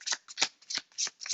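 Crystal oracle cards, already shuffled, are handled and riffled close up in a quick series of bright papery shuffling bursts, about six in a row, with no voice heard.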